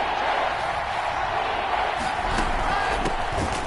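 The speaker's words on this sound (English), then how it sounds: "The crowd getting into it as we come up on a big 3rd down." A packed football stadium crowd roars steadily at a Jets at Texans NFL game, a dense continuous wash of cheering and voices at an even level throughout with no quiet gaps.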